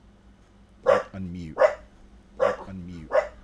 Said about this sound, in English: You can hear my dog barking in the back room